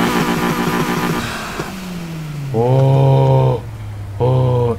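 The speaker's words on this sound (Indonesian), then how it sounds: "Oh, inline 4 ini mesin standarnya ya." Stock inline-four car engine in a Need for Speed racing game, a Honda Civic Type-R, revving in two loud sustained bursts with a steady idle between, after a fading mechanical drone at the start.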